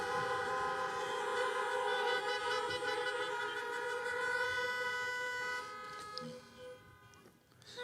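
Sustained vehicle horns blare together in a steady, tonal chorus at a moderate distance, then fade and cut out near the end.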